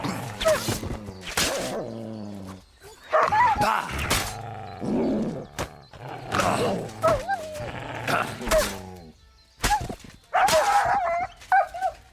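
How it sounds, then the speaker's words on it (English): Wild dogs or wolves in Kingdom Come: Deliverance 2 bark, yip and whimper in bursts that keep breaking off, close and loud, with a voice speaking between them and over them. "We got some wild dogs."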